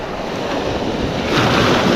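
Stormy April surf pounds the beach at Lido North, a loud close wash of breaking waves and churning foam buffeted by heavy wind on the microphone, swelling louder toward the end.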